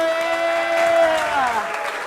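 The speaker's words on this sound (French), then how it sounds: "On applaudit quand même" Steady applause from an audience fills the space alongside a held tone, with people talking over it.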